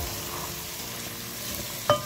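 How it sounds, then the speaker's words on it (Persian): Pomegranate-walnut stew (fesenjan) being sautéed and stirred in a pot after several spoons of sweet-sour paste are added, giving a steady soft sizzle with stirring scrapes and a brief clink near the end, with no talk. "4-5 قاشق ربع ملس بهش اضافه میکنیم، یه خورده تفت میدیم."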